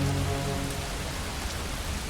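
Rain in the video game Far From Noise falls as a dense, even hiss, steady and fairly loud, with a low tone fading out early and no voices.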